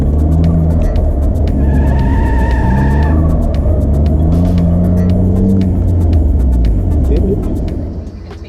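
A car engine hums steadily up close, with road rumble and tire noise throughout, easing off at the end.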